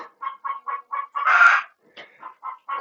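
A chicken clucks in a steady series of short calls, breaking into a louder squawk midway before the clucking resumes, close and clear.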